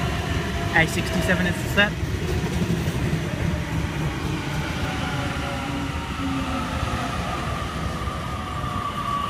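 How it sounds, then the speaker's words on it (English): A Sydney Trains service pulls into a platform at Penrith station, its loud rumbling roll and rising wheel and motor tones filling the scene while someone speaks over it and faint squeals ring out early. "Emu Plains service arriving into platform 3, Emu Plains only."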